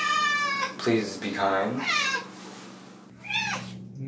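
Cat meowing in a home several times, drawn-out close cries with short pauses between them, over a steady low hum.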